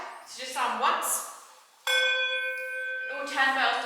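A large church bell in Bath Abbey swung full circle, its clapper striking once: a loud, sustained metallic strike with a long ringing decay that follows a softer passage of sound, close and dominant.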